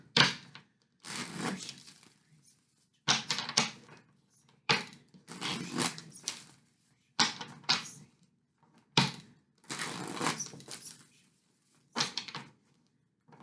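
Tarot cards being shuffled: repeated bursts of crisp riffling and flicking, each lasting about a second, separated by short quiet gaps, close and fairly faint, with no talking.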